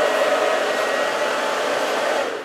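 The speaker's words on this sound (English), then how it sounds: "Hopefully y'all can hear me over the dryer." An Onyx Professional hair dryer from Irresistible Me runs steadily close by with a constant airy whoosh and a whining hum, fading slightly at the end.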